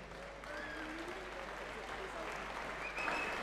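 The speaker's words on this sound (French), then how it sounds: "Vous pouvez les applaudir bien fort" Audience at a French women's boxing championship bout applauding the two fighters, a faint, steady spread of clapping heard from a distance with light crowd murmur.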